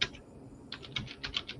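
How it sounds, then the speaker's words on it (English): Rapid keystrokes on a computer keyboard, heard close up during a cigar podcast: a brief pause, then a steady run of crisp clicks. "I'm actually typing in,"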